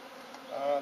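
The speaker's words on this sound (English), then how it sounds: "There's quite a few bees in here." A close, steady swarm of bees drones and hums as they are being moved into a Tanzanian top bar hive, growing slightly louder at the end of the brief stretch.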